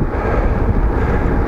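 Outdoor wind buffets a clip-on microphone, producing a steady, loud low rumble with no clear pauses.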